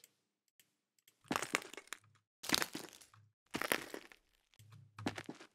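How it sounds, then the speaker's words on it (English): Shoe footsteps crunching onto breaking glass in a Wwise game audio setup: four sharp, brittle crackling bursts in a steady walking rhythm, each with a short low thud beneath, close and clear against near silence. "And then suddenly we step on glass."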